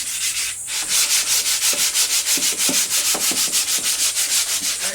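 Sandpaper scrubs by hand along the grain of an old wooden dresser in steady back-and-forth strokes, a loud, close, rhythmic hiss with no voices.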